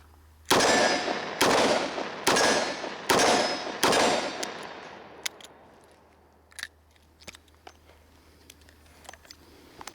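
A 38 Special revolver firing Remington +P ammunition fires four loud, sharp shots about a second apart, each trailing a ringing echo, followed by quieter scattered clicks and clatter from handling the gun.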